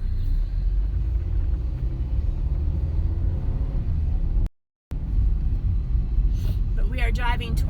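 A car drives on a road toward Atlanta, with a steady low rumble filling the cabin that cuts out briefly before returning. A voice and faint higher sounds come in near the end.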